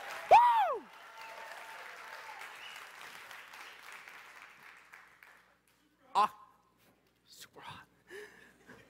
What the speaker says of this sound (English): Come on, let's clap.